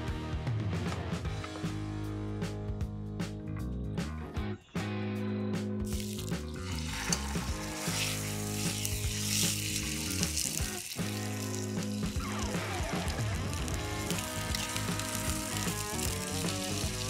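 Pork chops laid into hot oil in a Dutch oven give a loud, steady, broadband sizzle that continues unbroken for the whole stretch, with a brief dip partway through.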